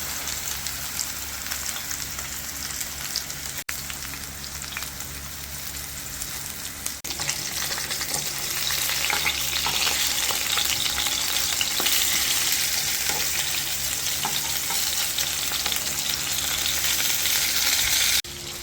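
Fish pieces sizzling steadily in hot oil in a pan, a dense, continuous frying hiss that swells slightly louder partway through, heard alone without talk.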